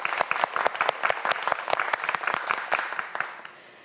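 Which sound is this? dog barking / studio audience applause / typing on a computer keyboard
studio audience applause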